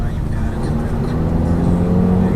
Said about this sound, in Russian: кто слышит звук движка вот при маленьких оборотах, когда вот газ ему нажимаешь